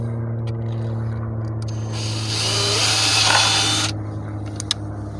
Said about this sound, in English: you'll take your drill bit and drill this out.